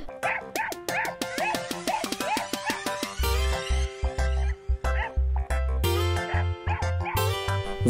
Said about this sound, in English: Do you like the dog sound?